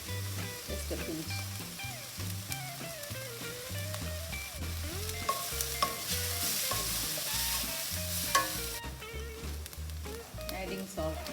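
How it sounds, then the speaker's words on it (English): Onion and tomatoes sizzle and fry in a pan for a South Indian chutney, a steady hiss with occasional stirring, heard beneath prominent background music throughout. "Fries nicely with the and it combines well with the onion and the tomatoes"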